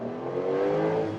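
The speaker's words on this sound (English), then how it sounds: "Let's see here, one more acceleration uphill." A Porsche 911 Turbo S with T-Hybrid accelerates uphill, its engine note rising smoothly in a brief, steady, fairly loud surge heard from inside the car.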